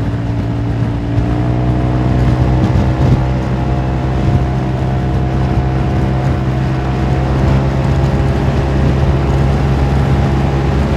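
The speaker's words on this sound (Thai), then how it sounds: "เครื่องมีเสียงดังๆเกาๆนิดหน่อยอะไรอย่างเงี้ยครับ" A car engine running with a loud scratchy, grating noise, a steady droning hum with sustained tonal whine held close and loud for about eleven seconds.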